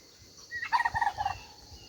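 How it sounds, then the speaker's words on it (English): A short burst of turkey gobbling, a quick rattling run of calls, slightly distant against a quiet background. "The turkeys are making turkey noises now."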